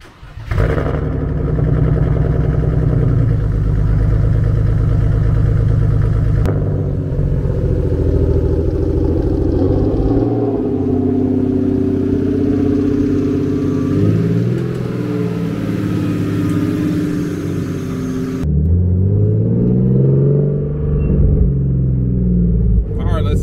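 BMW car engine warming up, a loud close rumble that idles and rises into revs, with pitch shifts and a sudden drop in intensity near the end.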